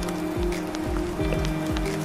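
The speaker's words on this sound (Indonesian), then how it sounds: "Lalu tiba-tiba turun hujan." Rain falls in a steady, hissing wash as a sound effect for a children's fairy tale about a village, layered under soft looping music with low, repeating tones.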